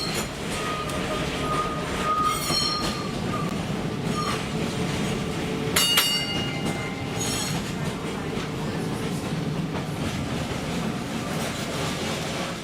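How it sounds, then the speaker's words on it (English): A 1925-built Melbourne tram runs in Auckland, its wheels rumbling and clacking on the rails, with sharp squeals and ringing metallic tones rising over the continuous close, loud rolling noise. "The sound of a Melbourne tram. This particular tram was built in 1925, I found out."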